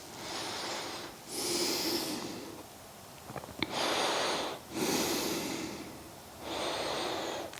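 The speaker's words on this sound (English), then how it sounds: "Take a few breaths to get settled." Deep breathing held in a seated yoga twist: five long, loud breaths alternating in and out through the nose, each with a soft hissing rush and quiet pauses between, no talking.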